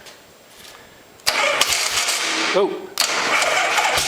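1970 Harley-Davidson motorcycle engine cranking over and catching, a loud nearby burst of engine noise that sputters once and then revs again, with a voice exclaiming over it.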